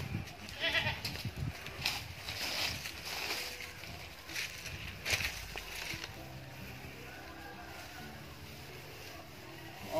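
Hungry farm goats bleating repeatedly at feeding time, several overlapping calls near and mid-distance over a busy, cluttered background with faint voices.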